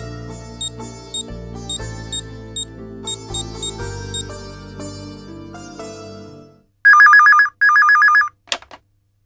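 A telephone rings in two loud, sharp electronic bursts after a stretch of music fades out, followed by a brief click as the call connects.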